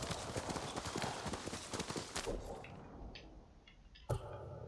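Horse hooves clip-clop in a rapid, rhythmic gallop in the video game Ghost of Tsushima, loud and close, then thin out and stop, with a brief thump near the end.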